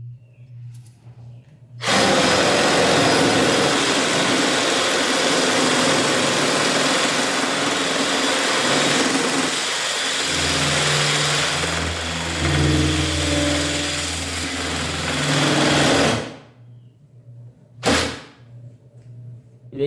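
A jigsaw attachment driven by a cordless screwdriver struggles through a cut, a loud buzzing motor whine with harsh sawing that runs for about fourteen seconds and changes pitch as the blade labors. Brief bursts follow after it stops.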